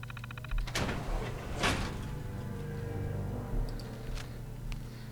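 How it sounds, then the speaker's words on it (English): In Fallout 4, a door slides open with two rushing mechanical swooshes, followed by faint clanks and clicks over a low ambient game hum. "Let's open the door."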